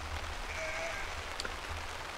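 Steady rain falls outdoors as a dense, even hiss of drops, with a faint low rumble underneath and no voices.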